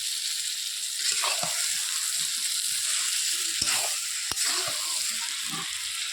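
Meat frying in a pan with onion, ginger and garlic paste and chilli powder: a steady, bright sizzling hiss throughout, broken by soft stirring scrapes and a couple of sharp utensil knocks.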